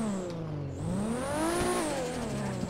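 A sports car engine in GTA 5 revs up and holds high, a loud continuous whine rising and falling over nearly three seconds without talk.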